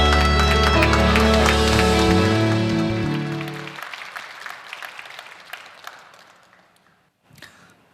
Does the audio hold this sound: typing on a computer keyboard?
no